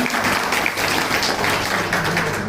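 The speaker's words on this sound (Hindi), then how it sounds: "सभी जोरदार ताली" An audience at a Ravidas Jayanti community gathering claps, producing a dense, even patter of many hands that holds steady and moderately loud without a break.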